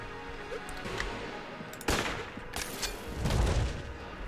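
Gunfire bursts from the bullet-hell game Enter the Gungeon, scattered through a low-level backdrop, with a sharper loud blast near the two-second mark and a heavier rumbling volley toward the end.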